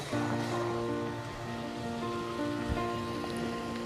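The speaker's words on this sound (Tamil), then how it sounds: "பாருங்கள், இது கொஞ்சம் நல்லா கொதிக்குதா" A pot of mushroom pulao bubbles and simmers close by with a steady sizzling, crackling wash and occasional pops, no voices present.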